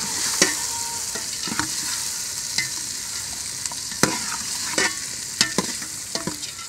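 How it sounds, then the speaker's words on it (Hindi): Chickpeas frying in a pan on a home stove, a constant sizzle with sharp metallic clicks of tongs striking the pan at irregular intervals, close and fairly loud, with no one speaking. "छोले ऐड किए हैं, तो इसको चिमट मारेंगे।"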